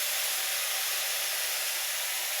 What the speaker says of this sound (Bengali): মেথি শাকটা ধুয়ে বেছে কুচি করে রেখেছি সেটা তেলের মধ্যে দিয়ে দিলাম